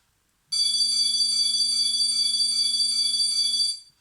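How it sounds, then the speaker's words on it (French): A school bell rings loudly and continuously for about three seconds at the end of class, a steady electric ring that cuts off abruptly and then fades. "La cloche a sonné."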